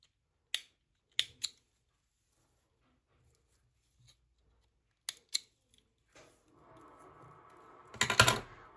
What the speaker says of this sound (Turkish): Burada artık ipimi keseceğim.